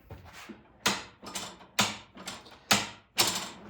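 A ratchet wrench tightens a bolt on a Toro lawn mower, giving sharp rhythmic clicking strokes about once a second, each trailing into a short rasping ratchet sound, close and fairly loud.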